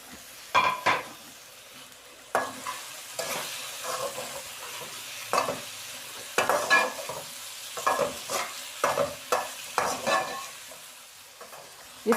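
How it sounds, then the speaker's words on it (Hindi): Onion frying with tinda in a pan, a soft continuous sizzle broken by repeated bursts of a spoon stirring and scraping the pan, close and fairly quiet with no talking. "इसको भी हम थोड़ी देर के लिए फ्राई करेंगे।"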